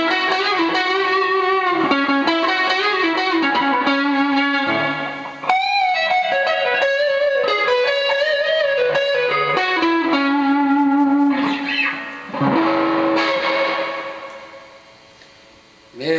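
Distorted electric guitar with a gold foil pickup clone in the neck position, boosted by an AC booster, plays a sustained melodic phrase with rich, buzzing overtones, notes sliding and ringing before fading out near the end.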